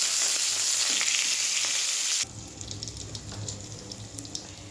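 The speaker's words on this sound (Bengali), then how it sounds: "এবারে বেগুন ভেজে নেব।" Eggplant frying in hot oil: a loud, dense sizzle that drops abruptly halfway through to a quieter, crackling fry with faint clinks, no voices.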